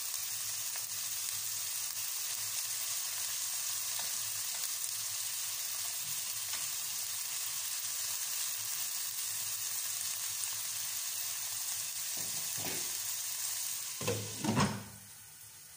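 Chicken pieces sizzle steadily in a pan, a continuous frying hiss broken near the end by a couple of louder scraping stirs.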